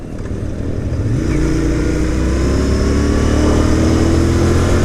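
A motorcycle engine revs up steadily and loudly, its pitch climbing over several seconds with a continuous close, throaty roar and no talking.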